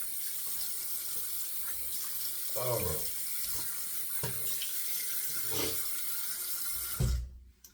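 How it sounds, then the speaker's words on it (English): Tap water runs into a sink while a face is rinsed during a shave, with splashing bursts as water is scooped and splashed, ending as the flow stops. "Alrighty, we'll rinse the face."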